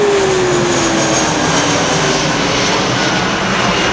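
An EasyJet airliner passes low overhead, a loud, steady jet roar with a slowly falling engine whine that fills the whole stretch.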